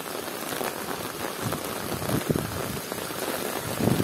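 A heavy downpour in Temryuk, Krasnodar region, hisses steadily as dense rain drums on surfaces, with occasional louder splashes and no speech.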